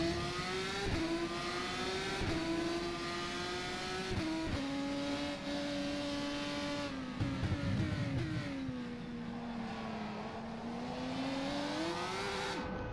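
A GP3 race car engine in the sim racing game rFactor 2 revs hard and shifts through gears, a whining tone that climbs and drops repeatedly with short gear-change dips and a longer slowdown for a corner, heard alone.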